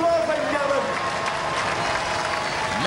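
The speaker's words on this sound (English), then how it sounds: "Give them a round of applause, ladies and gentlemen." Applause from the audience in the Robot Wars arena, a dense continuous crowd noise under talk for the whole moment.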